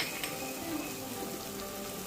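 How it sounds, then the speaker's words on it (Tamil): Vegetables with Maggi masala powder, chilli and coriander powder sizzle in a pan, a steady close-up frying crackle with faint stirring scrapes and no voices. "எல்லாத்தையும் நல்லா வதக்கி விட்டுறலாம்"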